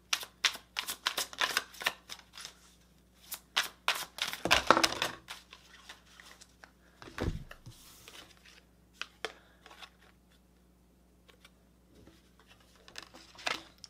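A stack of tarot cards shuffled in quick, crisp riffles and slaps, several bursts of papery flutter with pauses between, close by and no talking.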